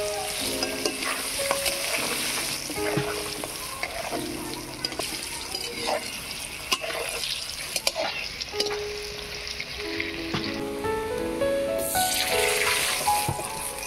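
Potatoes frying in oil with turmeric and salt, a steady close sizzle broken by stirring scrapes and clinks, with a brief burst of hiss near the end.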